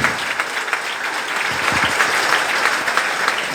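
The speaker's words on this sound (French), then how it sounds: "On peut applaudir Dieu." Applause from an audience at a French-language talk, steady clapping throughout with a few heavier claps near the middle, moderately loud and without speech.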